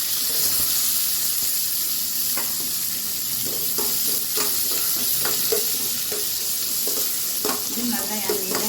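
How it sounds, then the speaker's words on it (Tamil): Green chilies, curry leaves, onion and garlic sautéing in hot oil in a home kitchen, giving a steady close sizzle with frequent stirring scrapes throughout, no talking. "இது நல்லா எண்ணெயில் வதக்கும்."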